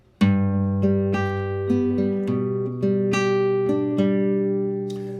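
An acoustic guitar picks out a chord one string at a time, clear plucked notes ringing into each other in a steady, repeating pattern.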